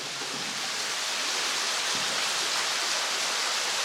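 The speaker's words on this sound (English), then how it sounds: "the water's running down pretty good right now" Steady rushing water inside a mine fills the space, a constant dense roar like a stream pouring down, with no voices and no change in level.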